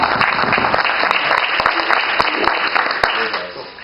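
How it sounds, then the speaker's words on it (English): An audience gives a steady round of applause for students at a sustainability event, dense clapping that holds throughout, with a voice talking over it. "if we could just give them a round of applause"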